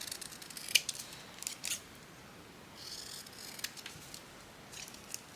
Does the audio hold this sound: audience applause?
no